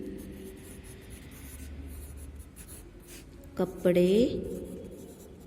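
A marker or chalk writes on a board in a Hindi primary-school lesson, giving a brief squeaky scrawl of a few strokes while a teacher talks.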